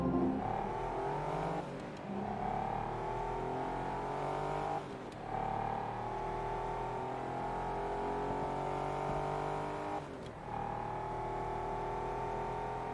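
A race car engine in Forza Motorsport 2 revs loud and close, climbing steadily through the gears with brief drops at each shift, three shifts in all.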